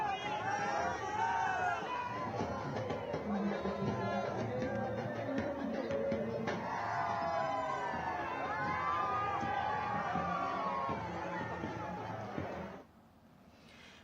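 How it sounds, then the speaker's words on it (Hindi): A large crowd gathers in Gujarat to welcome Prime Minister Modi's motorcade, a dense, steady hubbub of voices and cheers that holds for about twelve seconds before dropping off abruptly. "सानत में उनके इस्तकबाल के लिए एक बड़ी भीड़ जमा थी।"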